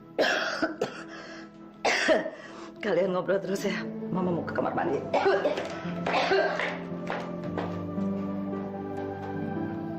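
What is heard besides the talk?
mother coughing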